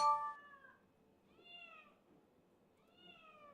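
Cat in an office meowing three times, fairly close and clear, each call rising then falling, with quiet pauses between them.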